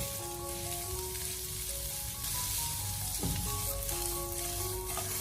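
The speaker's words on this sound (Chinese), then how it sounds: "一定要像这样子给它生炒" Carrot slices and meat being stir-fried raw in a wok, with a steady loud sizzle and frying hiss throughout and occasional scraping stirs, no talking.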